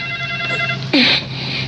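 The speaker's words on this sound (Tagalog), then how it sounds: "Cellphone nyo, nanang. Agri-ring." A cellphone rings briefly in a scene from a Filipino Ilocano-language drama, a bright electronic tone bursting in loud at mid-clip over a steady background hum.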